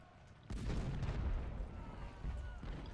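Civil War sniper rifle fire in the strategy game Distress Call: a burst of distant shots rolls in, thudding on with a rumbling low-end through the short stretch, then a fresh volley near the end.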